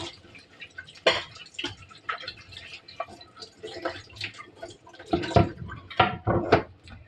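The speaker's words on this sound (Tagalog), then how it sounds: "Maghuhugas tayo ng mga hugasin kagabi." Dishes from the night before are washed under running water, with irregular splashes, clinks and drips coming close and at moderate volume.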